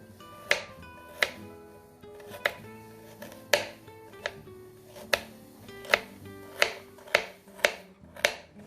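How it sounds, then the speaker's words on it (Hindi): A knife chops carrots on a cutting board in a series of crisp, evenly spaced thuds about one a second, close and clear, with soft background music underneath. "तो गाजरों को भी आप सेंटर से काट के छोटा कर सकते हैं।"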